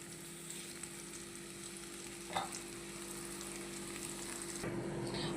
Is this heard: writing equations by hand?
no